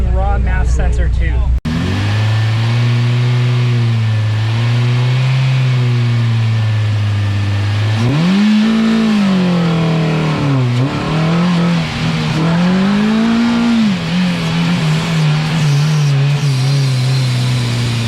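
A supercharged Toyota Yaris running on a raw MAF sensor tube races an autocross lap, its engine droning close and loud and rising and falling through gear changes, with occasional voices under it.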